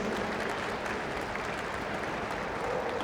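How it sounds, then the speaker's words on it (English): Arena crowd at the Crufts 2017 dog show rally competition applauds a handler and dog leaving the ring, a broad, steady roar of clapping heard from a distance, filling the hall evenly. "Big round of applause as they leave the arena"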